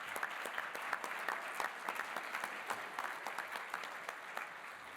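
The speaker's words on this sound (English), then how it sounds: "Let's give them another final round of applause." Audience applause for awardees at an emergency medicine awards ceremony, dense steady clapping from a large room, moderately loud and continuous with no talk over it.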